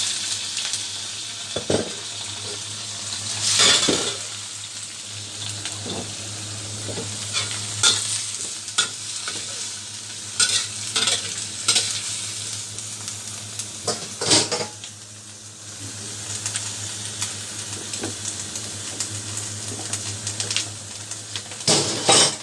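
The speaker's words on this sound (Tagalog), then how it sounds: "Pagsabayin, ihalo itong banana blossom at saka black ear." Banana blossom and black ear fungus stir-fried with shrimp in a pan, a continuous close sizzle broken by frequent scrapes and clanks of a spatula against the metal, with no talking.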